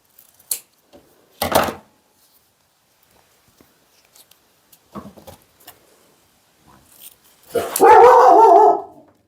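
A house dog barks sharply in short separate bursts, then ends with a longer, louder whining howl, close by in an otherwise quiet room after a neighbour's car door shut outside.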